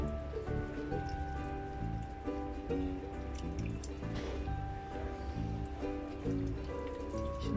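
Hands being washed with soap under running water on a balcony after repotting a kalanchoe, a steady splashing patter with soft squishing and dripping that carries on throughout, close by and with no talk.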